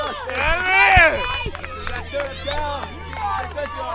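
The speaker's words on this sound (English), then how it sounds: "we got a big crowd here to watch this playoff game here" Crowd at a 1998 high school softball playoff game between Sterling and NBC, a steady outdoor murmur of many voices with scattered cheers and shouts rising and falling over four seconds.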